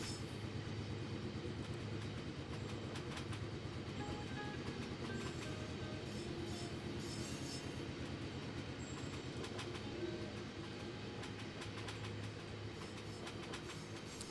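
Train rolling along the rails in the video game Infinite Rails, a steady continuous rumble with faint rhythmic wheel clatter and occasional squeal-like tones throughout, no voices.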